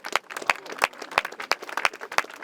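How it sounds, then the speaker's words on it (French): An audience applauding children at a Notre-Dame de Paris drawing event, a small group's sparse, rhythmic claps ringing out steadily and fairly close. "et franchement, on peut les applaudir."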